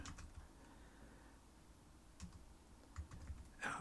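Faint, sparse keystrokes on a computer keyboard while a terminal command is entered, a few scattered clicks with a small burst near the end, quiet and close.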